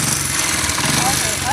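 A motorbike engine runs close by with a steady, rough mid-pitched drone for a brief moment.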